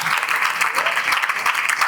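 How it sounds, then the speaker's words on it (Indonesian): An audience at an Islamic boarding school student sermon event claps steadily, a close, dense burst of applause that holds evenly from start to finish. "beri tepuk tangan untuk alat cipta"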